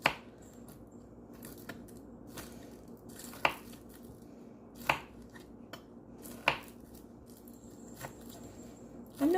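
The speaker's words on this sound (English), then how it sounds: "And then we're going to cut up our greens." A knife chops green onions on a cutting board in a home kitchen, a series of sharp, close, evenly spaced thuds with quiet scraping in between.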